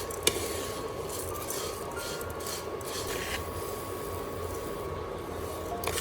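Rice and ginger roast over low heat in a pan, stirred with a utensil that scrapes and clinks steadily against the metal, close and moderately quiet, with a faint hum underneath.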